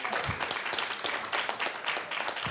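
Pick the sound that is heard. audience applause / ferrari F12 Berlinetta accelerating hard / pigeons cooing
audience applause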